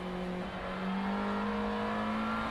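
A GT race car drifting wide through a corner at Sonoma Raceway, a loud steady engine roar with a rising pitch and a whirring tone, close and continuous.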